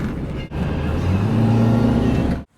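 A steady car engine idles and hums close by for a couple of seconds, with a brief dip near the start and a sudden cutoff at the end.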